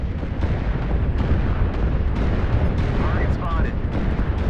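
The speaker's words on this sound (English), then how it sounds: "Artillery strike online." Artillery strikes explode in a multiplayer faction video game, a dense, continuous rumble of heavy booms and blasts that stays loud throughout.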